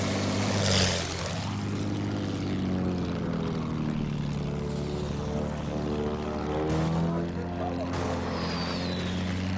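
An attack plane drones loudly in a Battlefield 1 match, its propeller engine humming steadily with shifting pitch amid gunfire and explosions, under continuous commentary.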